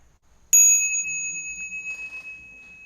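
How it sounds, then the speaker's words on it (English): A Buddhist bell is struck once, ringing out with a sharp bright onset and a long, slowly fading sustained tone that shimmers with gentle beating, loud and alone. "We've also got a bell song that we want to, there it is."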